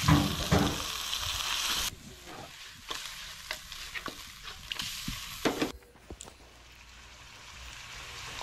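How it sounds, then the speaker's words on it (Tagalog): Chicken sautéing in a pan for pancit, a steady hiss of frying that drops away partway through, with intermittent stirring clatter and scrapes. "Gisahin muna natin para matanggal yung kanyang lansa."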